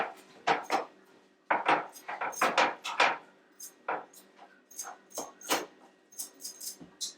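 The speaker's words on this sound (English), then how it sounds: "I'm going to stir it around a little bit" Seasoned meat being stirred in a pan, with repeated scraping and clinking of a utensil against cookware in short irregular bursts, close up and alone.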